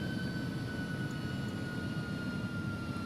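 The jet engines of an Airbus A300 in X-Plane 11 roar steadily during the climb after takeoff, a dense broadband rush with a faint high whine, constant and unbroken.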